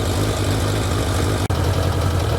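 An 1100G motorcycle engine with running issues idles steadily with a low, rumbling throb and a brief dip partway through, close and continuous, with no voices.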